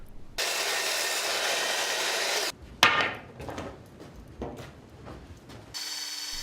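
Power drill boring pilot holes and driving screws into timber for a rectangular frame of a corvid trap: a steady loud whir for about two seconds, then short bursts of whining and ratcheting with a sharp knock.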